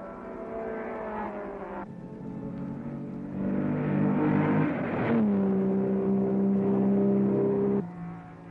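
The 1965 Sebring race cars, Jim Hall's Chaparral and Dan Gurney's car, roar at full throttle, their engine note rising and then shifting pitch as one car passes the other, loud and sustained before dropping off at the end.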